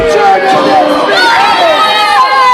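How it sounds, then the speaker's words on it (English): Lively wrestling crowd at a small live match booing and shouting in displeasure after Hannibal beats Lanny Poffo, a dense, loud roar of overlapping voices throughout with whistles and shouts rising above it. "This crowd is very lively and they are not happy whatsoever"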